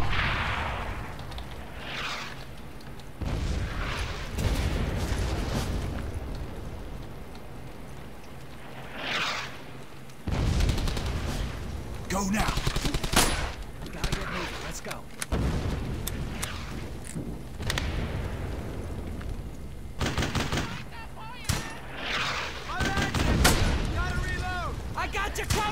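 Bursts of gunfire and booming impacts in Brothers In Arms: Hell's Highway crack repeatedly through a dense battle soundscape, with shouted voices mixed in.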